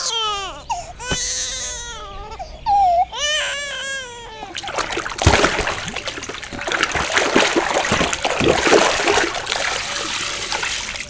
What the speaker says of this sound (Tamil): ஒரு வாளி தண்ணி மூடுறதுக்கு இவ்ளோ நேரம் ஆகுது.